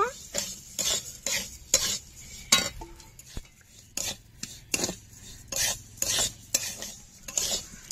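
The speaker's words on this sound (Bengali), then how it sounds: "এখানে চারশো গ্রাম চাল আছে ঘি দিয়ে ভালো করে ভেজে নেব" Gobindobhog rice being fried in ghee in a pan, a spoon scraping and stirring in repeated bursts with light sizzling between strokes and clinks against the pan, close and fairly quiet.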